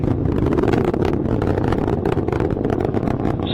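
A Falcon 9 rocket roars during ascent past the speed of sound, a continuous dense, loud rumble with crackling texture that holds steady throughout, no voices over it.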